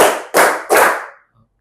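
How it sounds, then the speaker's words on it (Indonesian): A class of children claps in unison in the set pattern of once, twice, then three times: three sharp, loud group claps ringing out close by, followed by a faint murmur. "Tepuk 1, tepuk 2, tepuk 3."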